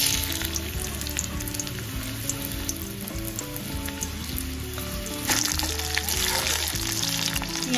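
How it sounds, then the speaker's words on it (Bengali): Chopped onion hitting hot oil in a wok, a steady close sizzle and frying hiss with faint background tonal sound throughout, growing slightly louder near the end. "তেল গরম হয়ে গেলে এখানে পেঁয়াজ কুচি দিয়ে দেব"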